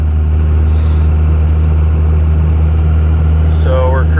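A 2001 stacked Cummins diesel truck cruises in overdrive at about 60 mph near 1500 rpm, giving a loud, steady low drone with road rumble throughout and a brief higher whine near the end.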